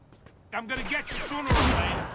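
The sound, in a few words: gunfire from a powerful gun in video game Mafia II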